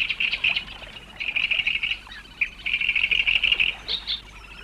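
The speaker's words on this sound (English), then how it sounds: "A great reed warbler again, on a precarious song perch." A great reed warbler sings nearby in loud, grating, repeated phrases, harsh chattering bursts separated by brief pauses.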